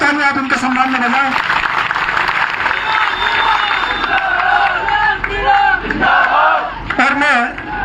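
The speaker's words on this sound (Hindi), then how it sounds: "तो जोरदार तालियां आप उनके सम्मान में बजाएं" A crowd at an election campaign rally roars with loud, continuous shouting and cheering, with patches of applause mixed into the sustained din throughout.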